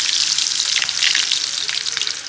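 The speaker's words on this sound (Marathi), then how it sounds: "कांदा मस्त तेलामध्ये खरपूस भाजून घ्यायचा" Chopped onion frying in hot oil, a loud, close, continuous crackling sizzle with no voices over it.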